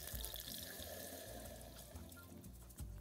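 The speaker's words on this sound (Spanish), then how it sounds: "Vemos que echamos el caldo." Broth poured into a cheese sauce in a pan, a faint steady splashing and trickling of liquid lasting a few seconds, with small clinks near the end.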